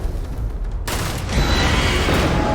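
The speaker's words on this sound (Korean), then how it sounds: "수류탄 한번 던져보자" A grenade blast in the sci-fi game Starfield erupts into a loud, sustained roar of explosive noise and rumbling debris after a brief quieter lead-in, with combat clatter continuing.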